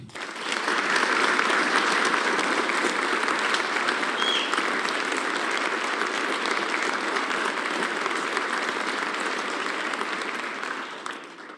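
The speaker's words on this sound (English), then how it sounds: "Please join me in a round of applause to thank Governor Noem." A legislative audience at a joint session gives Governor Noem sustained applause, a thick, continuous roar of many hands clapping that holds steady for about ten seconds before tapering off.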